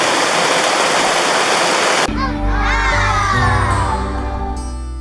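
River water rushes loudly as a dense, steady hiss for about two seconds, then cuts off abruptly and sustained droning tones take over.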